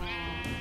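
A single sheep bleat from a Minecraft game, a close, wavering baa lasting under a second, alone without talk.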